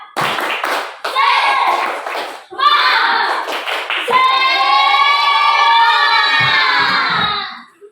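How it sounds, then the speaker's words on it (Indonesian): Schoolchildren in an Indonesian classroom perform a 'tepuk semangat' clapping chant, a burst of rhythmic clapping followed by loud children's voices chanting together in unison, close and lively, with a teacher's voice at the start. "Tepuk semangat."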